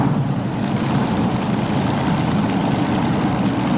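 A pulling tractor's engine idling steadily and loudly at a 1987 tractor pull while the driver struggles to get it into gear, a dense, continuous low rumble with no breaks.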